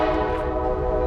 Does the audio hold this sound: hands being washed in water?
no